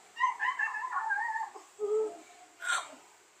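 A small dog whimpers and yips softly at close range, giving a short run of thin whining calls followed by two brief, faint yelps, with no talking.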